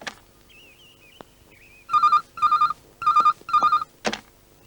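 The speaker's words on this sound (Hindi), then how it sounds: "राजू को फोन लगा।" Telephone in a Hindi movie scene: a brief burst of dialing tones, then four evenly spaced double rings of a ring-back tone, close and clear, ending with a click as the call connects.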